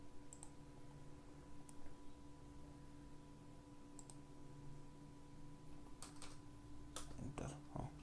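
Computer keyboard keys tapped while AutoCAD drawing commands are entered: sparse, isolated clicks and short bursts of typing spread across several seconds, faint over a steady electrical hum and background hiss, with soft speech.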